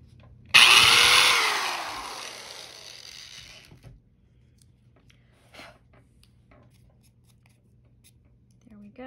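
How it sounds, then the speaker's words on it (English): A power drill spins a bit into wood for about three seconds, starting abruptly loud and fading as the motor winds down, followed by quiet handling noises and faint taps. "To take my drill bit, very gently get in there."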